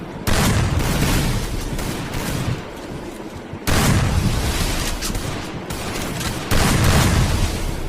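Gunfire in a shooting video game, loud sustained bursts of rapid shots in three long volleys separated by brief pauses, dense and booming with no talk.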